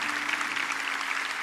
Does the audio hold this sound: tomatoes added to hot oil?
no